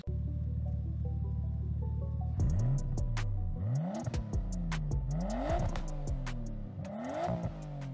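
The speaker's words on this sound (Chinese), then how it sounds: "我台湾也有 GTR" A Nissan GT-R engine idles steadily, then revs hard in several rising and falling bursts with sharp crackles, loud and close, and no talking.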